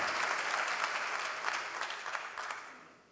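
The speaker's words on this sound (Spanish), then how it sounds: "Un fuerte aplauso para él." A conference audience at a Burgos forum breaks into sustained, dense applause that stays steady, then tapers off toward the end.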